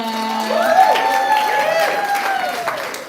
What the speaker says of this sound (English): Y'all applaud the poet one more time.